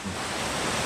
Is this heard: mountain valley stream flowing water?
yes